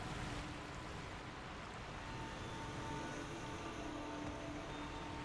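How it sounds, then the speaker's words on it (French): Roaring waterfall in the video game Sekiro, a steady, dense rush of falling water filling the whole clip without pause, loud and even, with no voices. "Le bruit de la cascade rugissante est assourdissant."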